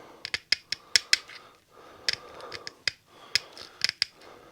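Scissors cutting material to make a round patch for repairing a broken plastic handle, with a quiet run of crisp snips and clicks spaced irregularly across the clip, close by and with no talk.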